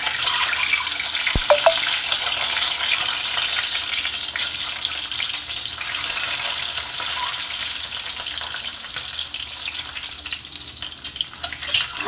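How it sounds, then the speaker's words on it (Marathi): Eggs fry in hot oil for a home-style dhaba egg curry, a loud, continuous crackling sizzle close by with an occasional sharp pop and a few light clinks. "अंडे आपल्याला फक्त फ्राय करून घ्यायचे होते सगळीकडून गोल्डन कलर आला पाहिजे"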